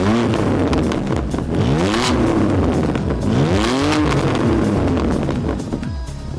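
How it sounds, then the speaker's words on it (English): Close, loud revving from a BMW F80 M3 Competition set to Sport Plus, several sharp rising blips that drop away quickly, with a rumbling exhaust idle between pulls and no talking. "So that was Comfort and Sport Plus revs."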